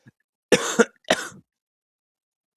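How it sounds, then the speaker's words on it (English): Two sharp coughs from one person come in quick succession, close and loud, in an otherwise silent room with no talk around them. "how many times I've coughed in this episode"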